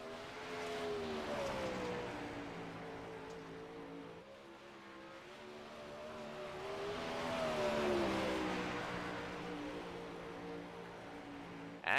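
A 360 sprint car races a qualifying lap on a dirt oval, its engine a steady high-pitched roar that rises and falls in pitch through the turns, heard from a distance without talk.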